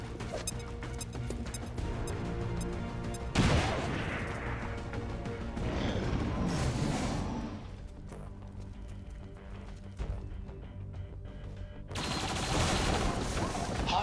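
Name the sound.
grenade explosion and gunfire in the video game XCOM 2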